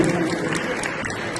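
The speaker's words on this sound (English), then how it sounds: "Give a big round of applause to our first devotee" Audience clapping steadily at an African forum event in Paris, a dense, continuous wash of applause filling the whole moment without a break.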